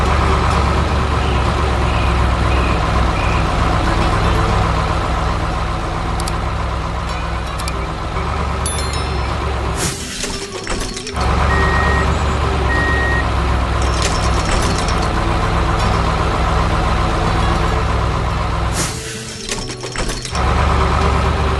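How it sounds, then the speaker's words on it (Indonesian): A tow truck's engine rumbles steadily while its reversing beeps repeat in a regular rhythm as it tries to pull an excavator stuck in a hole, with brief bursts of air-brake hiss breaking in twice. "Truk derek itu mencoba menariknya keluar."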